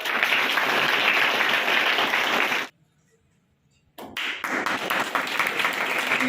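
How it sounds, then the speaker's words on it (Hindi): An audience at a children's day celebration bursts into dense clapping, breaks off into a moment of silence, then starts applauding again with scattered sharp claps before building back to full. "इनके लिए एक बार ताली बजा दीजिए।"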